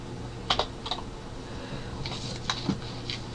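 Someone types BBC BASIC code on a computer keyboard. Clusters of soft key clicks come in short bursts separated by pauses, close but fairly quiet, with no voice over them.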